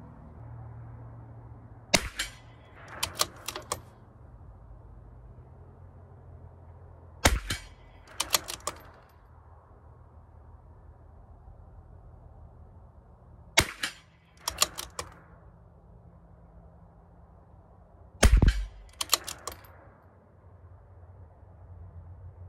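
A CZ457 .22 rifle fires Eley Pistol Plus ammunition at a 50-yard range, five sharp cracks spaced several seconds apart, each followed by faint clicks of bolt cycling, heard from close by.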